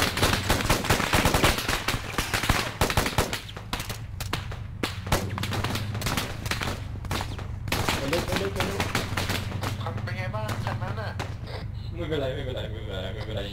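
Dense, rapid gunfire in the military shooter ArmA 3, loud, close and nearly continuous automatic bursts, with people talking excitedly over the shooting.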